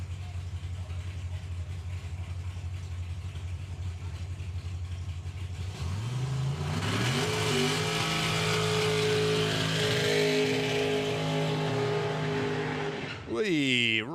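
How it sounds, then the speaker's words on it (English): A dragster doing a burnout at drag racing nationals: a loud engine first rumbling, then surging into a roaring, tire-screaming burnout with rising whine, while an announcer talks over it. "Daniel Giles does the burnout in the Giles and Hartley Dragster"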